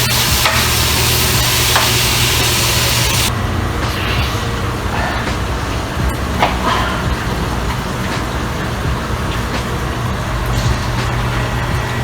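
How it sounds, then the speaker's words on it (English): Ground beef fries in a pan and is broken up with a utensil, giving a loud, continuous close sizzle. Scraping and stirring clicks sound over it throughout, with a brighter hiss at the start. "Once it's in the pan, you wanna start breaking up your beef."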